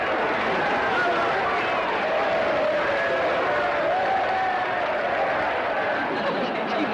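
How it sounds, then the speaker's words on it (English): A wrestling audience roars and applauds after a bout ends, a dense continuous wash of crowd noise with a voice talking over it. "This crowd is going wild."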